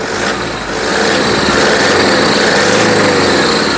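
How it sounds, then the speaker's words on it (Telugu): A 2015 Toyota Fortuner 4x2 with a manual gearbox runs with its engine going. The close, loud, steady mechanical drone holds evenly from start to finish with no talking. "ఇంజన్ యొక్క నాయస్ చాలా సైలెంట్గా అయితే ఉందండి"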